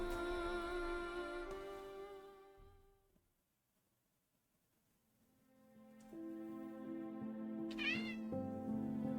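Cat meowing as a sound effect in a Romance Club story game, long drawn-out tonal meows and caterwauls, fading to near silence midway before another wavering meow rises again.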